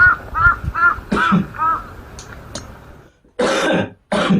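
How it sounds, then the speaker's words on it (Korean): A person coughs repeatedly, a quick series of harsh hacking coughs, then a pause and two more loud bursts, close to the microphone. "기침 소리가 컸죠?"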